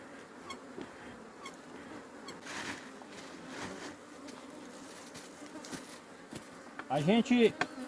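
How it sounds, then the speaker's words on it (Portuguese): A honeybee swarm drones steadily around a wooden hive box outdoors, a dense continuous buzz with individual bees passing close, and a honk-like call rising briefly near the end. "Até que tá bonito de abelha, ó. Muita abelha."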